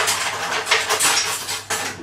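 A rubber spatula scrapes cake batter around a mixing bowl, giving a steady, close, rasping swish with a few louder strokes and no talk.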